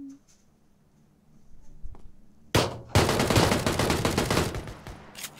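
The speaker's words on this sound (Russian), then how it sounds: "Он в воздух стрелял" Rapid gunfire in a shooting video game, a dense burst of sharp shots starting abruptly after quiet and continuing loudly for several seconds, following a soft click and faint speech.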